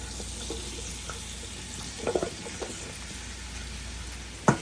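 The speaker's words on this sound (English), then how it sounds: "We're going to add our potatoes to the skillet." Potatoes go into a hot skillet with a soft, steady sizzle, a few light clicks and taps, then a sharp knock near the end.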